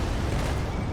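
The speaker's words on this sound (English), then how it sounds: "Trip grenade! Get the hell out of there!" A trip grenade explosion in Halo 2 Anniversary fills the whole second as a loud, broadband blast, a dense roaring burst with heavy low rumble and no clear separate onset or tail.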